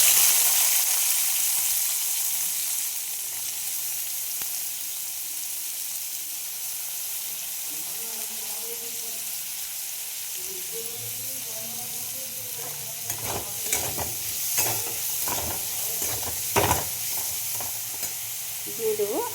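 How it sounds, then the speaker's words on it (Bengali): Onion, garlic, ginger and green chilli fry and get stirred in a kadai, a steady soft sizzle running throughout, with scraping and clatter from a utensil growing busier toward the end. "এগুলো আমি এখন ভেজে নেব"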